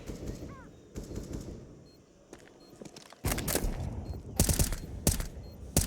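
Gunfire during a Counter-Strike match on the Ancient map, scattered single shots at first, then dense bursts of rapid automatic fire, close and loud over game ambience.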